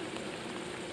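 Steady rain falls during a bass fishing outing, a dense, even hiss with no voices and no breaks.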